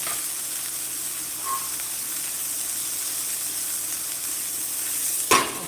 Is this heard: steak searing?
yes